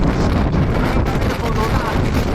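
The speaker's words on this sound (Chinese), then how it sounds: "经常刮大风啊，特别大这个风" Strong gale of roughly force 8 battering a campsite on the Gobi desert near Yumen, a loud, continuous roaring rush of wind buffeting the microphone up close.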